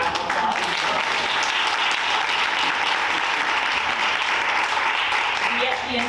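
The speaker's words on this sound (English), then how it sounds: "I would like to give you a round of applause." An audience at a community convening applauds steadily and fairly loudly, a dense wash of clapping sustained throughout without letting up.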